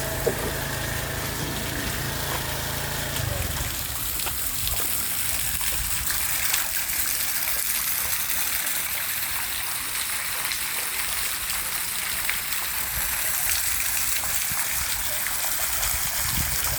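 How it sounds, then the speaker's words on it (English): A waterfall in Hermann, Missouri pours into a pond with a continuous broadband rushing hiss that stays even and fairly loud throughout. "There's a waterfall over here."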